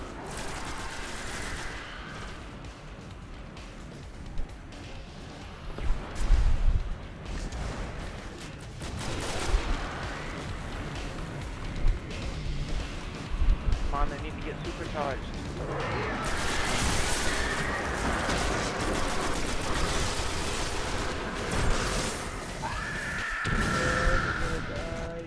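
Gunfire in the sci-fi shooter video game Destiny: rapid bursts and heavy booming shots crackle almost continuously over busy in-game noise.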